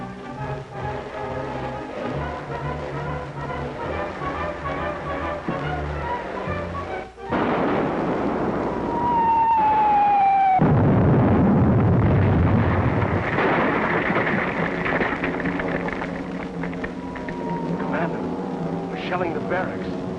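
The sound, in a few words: artillery shelling of barracks, film sound effect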